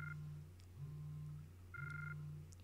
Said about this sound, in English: It's a flip phone.